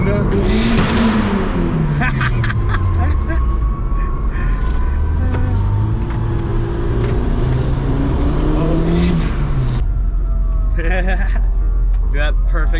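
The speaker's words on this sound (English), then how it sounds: "Look at that perfect backfire out of the" A 1989 Honda CRX with a V8 swap revs hard through the gears, engine note climbing and falling with a sharp backfire pop, loud and close, with excited voices shouting over it.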